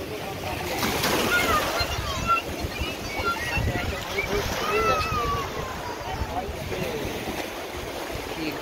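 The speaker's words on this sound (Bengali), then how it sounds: "জোয়ারের জন্য জলের বেগ প্রচণ্ড, ঢেউয়ের বেগ বেশি" Strong sea waves at high tide break and wash onto New Digha beach in a constant loud roar of surf, with people speaking over the water.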